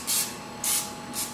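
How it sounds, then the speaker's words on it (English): Olive oil spray misted onto a whole tilapia before it goes into an air fryer: three short close hissing bursts separated by brief pauses, with no talking. "Prior to using, use some olive oil. We're going to spray it"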